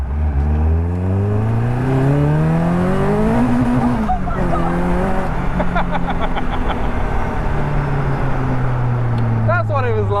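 A supercharged Caterham 620R accelerates hard in second gear, its engine climbing steeply in pitch, shifting, and climbing again, loud and close inside the cabin with people talking over it.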